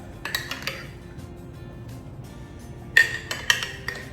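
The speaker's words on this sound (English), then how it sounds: "Sorry for the clinking." Dishes and utensils clink in a home kitchen while store-bought pumpkin puree is mixed for a pumpkin spice sourdough bread, with sharp, bright knocks in scattered clusters and a quiet gap in the middle.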